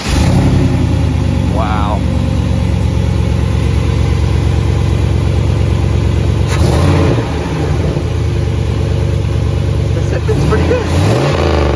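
A 5.3 turbo Volvo wagon with a 5.3 bottom end and LS1 heads runs loud and close with a steady rumble and swells in revs, while people talk over it.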